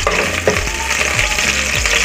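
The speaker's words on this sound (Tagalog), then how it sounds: "Haluin natin at isilin natin itong sibuyas." Chopped onion fries in a pan and is stirred, a loud close sizzle broken by scraping and knocking strokes from the utensil, with no voices.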